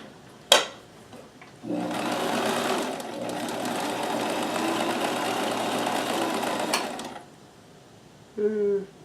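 Kenmore 158.1914 sewing machine running a stretch stitch with a stretch stitch foot: a steady, loud mechanical whir lasting several seconds, preceded by a sharp click and followed by a brief tone-like squeal at the end.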